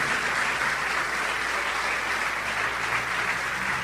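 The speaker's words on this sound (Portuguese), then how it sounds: "vamos aplaudir mais ao nome do Senhor Jesus." A church congregation claps during a worship service, a dense, steady burst of applause filling the whole stretch without a break.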